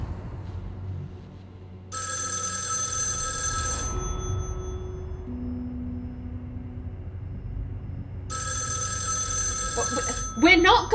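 Old-style telephone bell rings in two bursts, each about two seconds long, with a pause between, inside the video game Erica, over a low hum and faint background sounds.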